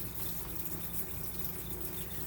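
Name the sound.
water running from a tap into a pan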